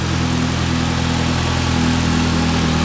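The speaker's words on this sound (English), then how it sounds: "Start in the morning, wake the engine up. I think it sounds great. Nice little growl." A 2015 Mitsubishi Lancer GT idles after a cold morning start, its engine holding a steady, even low growl up close, with no voices present.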